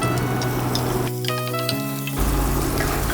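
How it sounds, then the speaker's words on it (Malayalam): Sliced onion sautéing with salt in a pan, a continuous close sizzle and crackle with a brief stir, alone without voices. "ഉപ്പ് ചേർത്ത് നമുക്ക് സവോള നന്നായിട്ട് വഴറ്റാം"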